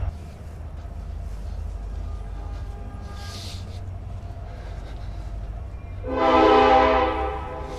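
A train rumbles steadily nearby at a border crossing city, then its horn sounds loudly for about two seconds near the end, over the constant low drone of the passing cars.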